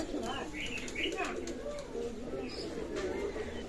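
Pakistani teddy pigeons cooing at a pigeon loft, soft repeated low coos close by over a constant background hum, with someone talking in between.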